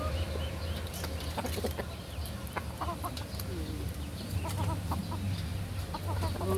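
Pet chickens clucking and squawking with a steady, busy chatter of many birds close by, plus a constant low background hum and occasional rustling. No one speaks.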